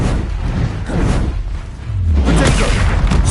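Confringo fire spell blasts in the Hogwarts Legacy video game, a dense rumbling boom that swells loud and then surges again, with heavy low-end roar and crackling debris under occasional player shouts.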